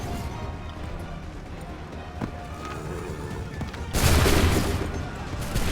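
Assassin's Creed 3 musket volley: a sudden loud, sharp burst of massed gunfire cuts through a rumbling battlefield ambience, then trails off into the continuing background noise.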